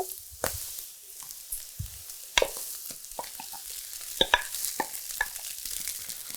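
Rice tipped into a frying pan of garlic and anchovies, giving a soft crackling sizzle broken by scraping and knocking of a utensil against the pan, close and fairly quiet, with no speech.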